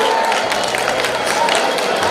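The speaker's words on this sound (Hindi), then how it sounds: "जोरदार तालियां इन तीनों प्रतिभागियों के लिए।" A crowd at a festival closing ceremony gives loud, dense applause for three prize winners, continuous clapping and cheering filling the hall with no gaps.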